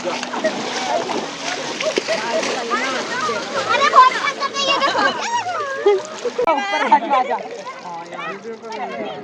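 People splash and slosh about in river water at Maheshwar, mostly under lively, overlapping adult and children's voices.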